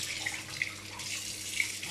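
Lukewarm water runs from a kitchen tap into a hot pan while making a pineapple coconut cake, a steady soft hiss of flowing water with a few faint splashes, moderately quiet and close.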